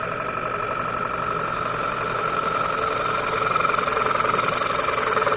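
A wood lathe spins a bowl blank while a bowl gouge cuts it, giving a steady droning whir with a continuous scraping hiss that grows slightly rougher toward the end, close and alone.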